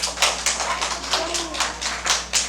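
At a children's church birthday celebration, kids clap in a steady, even rhythm of sharp, nearby claps that carries on for a few seconds.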